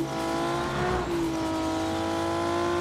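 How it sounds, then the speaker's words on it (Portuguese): A race car engine in a car dealership video game roars at a high, steady pitch, loud and close, swelling slightly as it accelerates and then holding a constant whine, with no talking. "Ouve o motor disso aqui, só na ligada."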